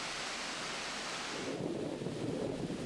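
Gusty wind roaring over a links golf course, buffeting the microphone in a broad hiss that shifts to a deeper rumbling gust halfway through, with no voices.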